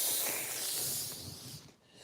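Cat hissing, a loud breathy spitting hiss lasting about two seconds up close, fading out at the end.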